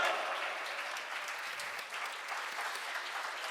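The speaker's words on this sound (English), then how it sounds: "A standing ovation from the crowd." Standing ovation from a crowd at a talent show audition, dense sustained clapping that fills the whole stretch at a steady level with no voices over it.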